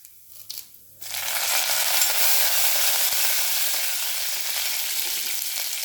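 Curry leaves drop into hot oil for puri masala and burst into a loud, dense sizzle after a short quiet start, then crackle steadily and close by.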